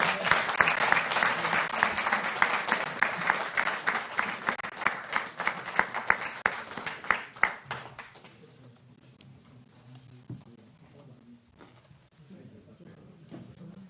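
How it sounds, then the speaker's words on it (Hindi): Loud applause from a crowd at an official government event with the Chief Minister, with dense, rhythmic clapping for about eight seconds before it fades into quiet room tone and a murmur. "सबका अभिनंदन करें, स्वागत करें। जोरदार तालियां"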